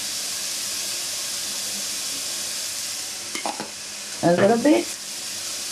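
Aulacese fried rice stir-frying in a pan makes a steady, loud sizzling hiss throughout, with a few scraping stirs and a brief spoken remark near the end.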